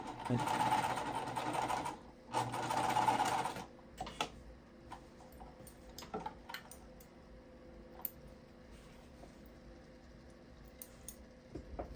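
A sewing machine stitches quilt pieces in two quick close bursts, each about a second and a half, followed by quieter handling clicks and soft movement.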